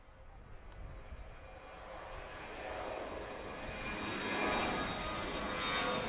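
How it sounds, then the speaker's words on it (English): An airplane taking off on runway 4 toward the northeast at Washington Reagan National Airport, its engine roar heard from a distance and swelling gradually louder as it climbs, with a faint outdoor background. "here's one taking off on runway 4 to the northeast"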